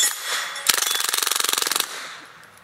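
A suppressed Cobray M11 submachine gun on full auto fires a fast burst of about 32 rounds, a rapid even string of muffled pops lasting around a second, followed by a fading hiss of the surroundings.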